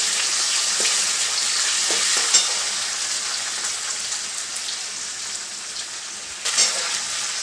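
Curry leaves and spices tempering in hot oil, a continuous dense sizzle and spatter at steady loudness, with a few sharper crackles and pops breaking through.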